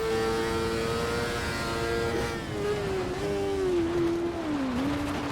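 A race car engine in Automobilista 2 holds a loud, steady high whine through a lap, pitch easing and dipping slightly as it shifts or brakes, then climbing again, alone with no talk.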